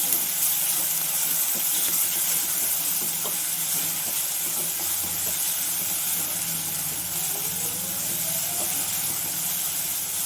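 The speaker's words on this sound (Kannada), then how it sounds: "1 ಟೇಬಲ್ ಸ್ಪೂನ್ ಶುಂಠಿ ಬೆಳ್ಳುಳ್ಳಿ ಪೇಸ್ಟು ಹಾಕಿ ಅದನ್ನು ಸ್ವಲ್ಪ ಫ್ರೈ ಮಾಡ್ಕೊಳ್ಳಿ ಚೆನ್ನಾಗಿ, ಹಸಿ ವಾಸನೆ ಹೋಗೋವರೆಗೂ" A tablespoon of ginger garlic paste fries in a hot pan for chicken kurma, giving off a steady, continuous sizzle and hiss that holds at an even level throughout, with no talking.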